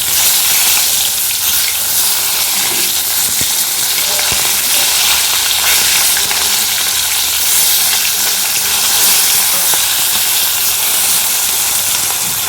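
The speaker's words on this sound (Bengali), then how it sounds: "মাছ ভাজা হচ্ছে" Fish fries in hot oil in a home kitchen, giving a loud, close, unbroken sizzle and hiss with faint crackles and no talking.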